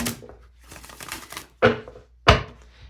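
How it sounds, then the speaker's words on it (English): Tarot cards shuffled and riffled by hand, a low rustle followed by two sharp, close bursts of cards snapping together. "Let me shuffle one more time."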